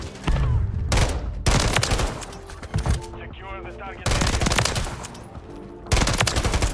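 Rapid bursts of SVA 545 automatic rifle fire in a Modern Warfare III multiplayer match, several loud sustained volleys broken by short pauses, with a voice speaking over the gameplay.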